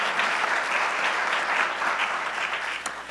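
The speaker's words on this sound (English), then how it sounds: "Please give them a round of applause." Applause from a conference audience at a plenary session in Cleveland fills the room, a dense, steady wash of many hands clapping that holds at an even level and starts to thin near the end.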